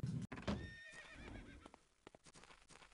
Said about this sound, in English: Damn it, I heard the horses.